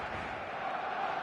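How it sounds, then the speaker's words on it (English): Stadium crowd buzz before a match in eFootball 2026, a steady, continuous roar of many distant voices with a murmuring texture and no single voice standing out. "There's a real expectant buzz in the stadium, and the players on the pitch are raring to go any minute now."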